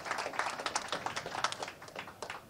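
A crowd applauds tired cyclists at UK Construction Week, a quiet, dense patter of many hands clapping steadily throughout without any voices.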